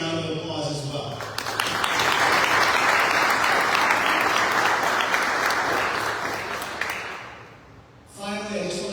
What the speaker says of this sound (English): So I just want to give them a big round of applause as well